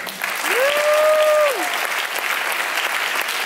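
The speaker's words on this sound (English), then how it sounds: "Big round of applause" Applause for a trumpet player at a school jazz concert fills the hall as a steady, loud wash of clapping from the audience, with a short held tone rising briefly over it near the start.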